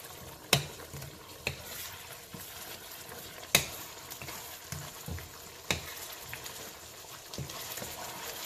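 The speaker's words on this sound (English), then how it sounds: "let this simmer for about a minute" Spicy chicken with Thai eggplant and toasted roasted rice powder simmers on low heat in a pan, giving a steady soft sizzle broken by a few sharp spoon taps against the pan.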